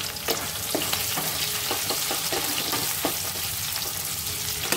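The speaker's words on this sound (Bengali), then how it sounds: "तो आमी कैप्सिकमटा आगे एकटु भेजे नेबो।" Capsicum frying in a pan for paneer pasand, giving a steady close crackling sizzle with brief louder pops and stirring scrapes throughout, no voices.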